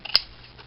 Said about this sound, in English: Trick is with these sort of scissors, don't go to the end of the scissors.